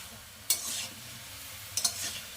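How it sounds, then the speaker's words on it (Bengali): Pumpkin leaves and prawns fry with spices under a soft steady sizzle, while two sharp scrapes of a spoon stirring the pan stand out, close but quiet. "এবার আমি ভালো করে এটাকে দিয়ে কষিয়ে নেব"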